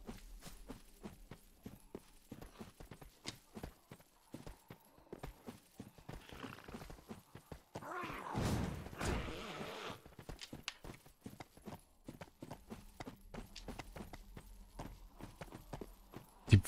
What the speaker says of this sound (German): Die Pferde wieder hinter mir her.